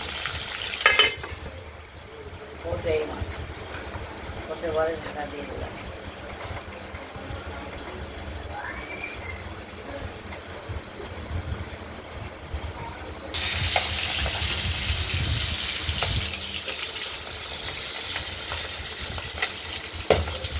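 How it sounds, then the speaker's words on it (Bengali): Soft, steady sizzling of pabda fish frying in oil runs throughout with occasional stirring clinks, and the sizzle grows louder and brighter partway through. "মাছ তেলে ভাজতে গেলেই তেল ছিটকে আসে"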